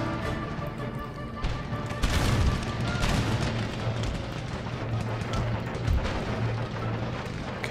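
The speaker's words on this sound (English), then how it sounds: "Where was that artillery going?" Artillery and musket fire in an Empire: Total War battle, a dense rumbling barrage of booms and crackling volleys, loud and continuous with a voice talking faintly underneath.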